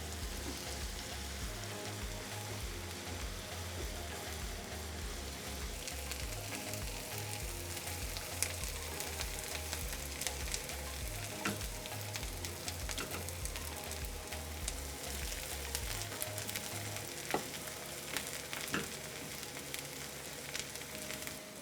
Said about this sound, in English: now we'll cook the onions until they get golden brown and sweet and caramelized